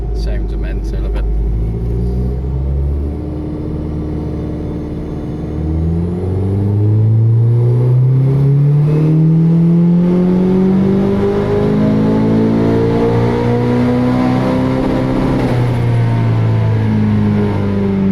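A big-turbo Vauxhall Astra VXR revs hard on a dyno during a mapping session, its engine note climbing in pitch and loudness through a long pull before easing off, a loud roaring drone with whining harmonics and a brief clattery start.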